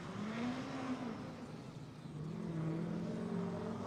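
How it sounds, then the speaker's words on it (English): A Nissan S13 drift car warms up its GT Radial tires during Formula Drift knockout qualifying, its engine droning steadily at a distance with a rising and falling pitch and no talk over it. "Pablo Cabrera Racing V's Performance S13. Warming up the tires, the GT radials to be specific."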